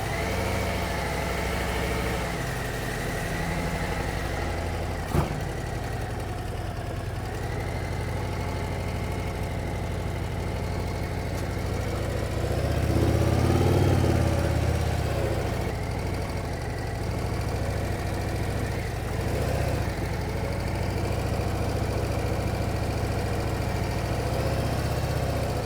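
A 2024 Harley-Davidson CVO Road Glide ST with upgraded Wilbers suspension rumbles steadily on a test ride, a loud continuous engine drone that swells briefly in the middle, with no talking.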